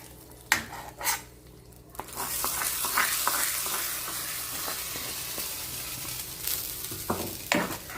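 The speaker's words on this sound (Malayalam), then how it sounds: "നമ്മുടെ കറിയിലേക്ക് നമുക്ക് ഈ കൂട്ട് ഒഴിച്ചു കൊടുക്കാം." Spice mixture goes into a hot curry of jackfruit seeds and drumsticks: a few clinks of a utensil on the pan, then a sudden loud sizzle that holds steady with stirring scrapes and taps near the end.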